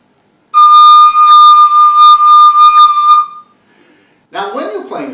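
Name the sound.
Suzuki recorder played without covering any holes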